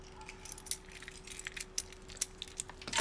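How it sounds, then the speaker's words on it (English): Car keys jangle close by in a string of short, bright metallic clinks that come in irregular bursts over a few seconds, with no voices. "And the car keys."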